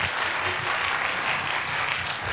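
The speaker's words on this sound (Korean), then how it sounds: "큰 박수 한번 부탁드리겠습니다" Audience applause at a university chemical and biological engineering department information session, a steady even wash of many hands clapping throughout, fairly close and continuous without talk.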